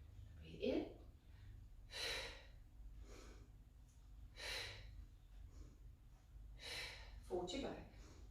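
An exerciser doing pilates takes several strong, sharp in-breaths and out-breaths, spaced roughly every couple of seconds, close to the microphone over a low background hum.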